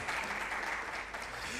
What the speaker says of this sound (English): Please, let's give her another round of applause